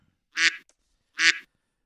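A duck quacks twice, two loud, clean, evenly spaced quacks with silence around them and no talk.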